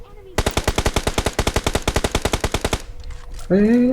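Automatic rifle fire in the battle royale game PUBG: a rapid, loud burst of some twenty evenly spaced shots, followed by a brief pause and a sharp in-game sound at the end.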